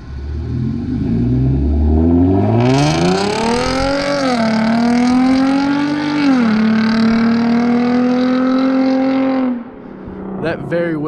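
A Hyundai Genesis Coupe revs, then launches from a standstill with a loud, close engine note that climbs through the gears for several seconds before cutting off, with brief voices at the end.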